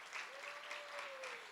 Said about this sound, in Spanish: si le vas a dar un aplauso, dáselo al Señor y dáselo fuerte